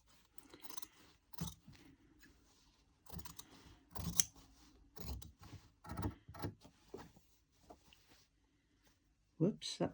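Scissors snip away excess fabric while quilt-as-you-go blocks are machine sewn, giving short repeated crisp cuts in irregular bursts with someone talking over and between them.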